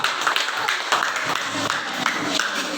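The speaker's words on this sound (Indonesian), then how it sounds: "tepuk tangan untuk kelompok 2" A classroom of students clapping for a discussion group, a lively, uneven patter of hands with soft crowd murmur mixed in, close and moderately loud throughout.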